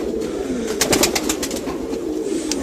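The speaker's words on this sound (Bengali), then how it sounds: "এই যে কিছু কবুতর আছে এখানে খুব সুন্দর সুন্দর" A pigeon's low coo murmurs through steady background noise, with a few faint clicks from nearby.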